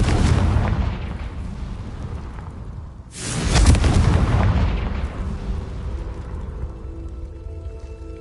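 An explosive Confringo spell goes off in Hogwarts Legacy, a sudden loud blast near the three-second mark bursting over a steady rumbling bed and trailing into a long fading roar.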